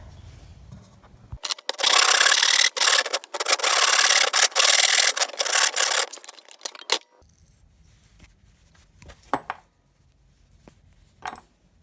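Cast silver-colored metal coins being sanded by hand, a loud, dense abrasive rubbing that runs steadily for several seconds, then breaks into scattered clinks and short scrapes of metal.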